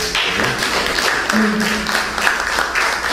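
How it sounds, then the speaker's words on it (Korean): An audience claps at the fifth Yun Isang small concert, a dense, steady patter of many hands close by that holds for a few seconds with faint voices mixed in. "박수 한번 보내주시기 바랍니다"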